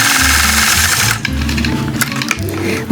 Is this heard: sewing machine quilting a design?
yes